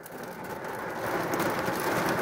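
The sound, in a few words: autumn afternoon rain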